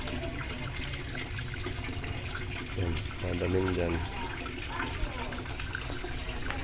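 Water rushes steadily through a fish pond filter at an African catfish pond, a constant wet hiss and gush running beneath someone talking throughout.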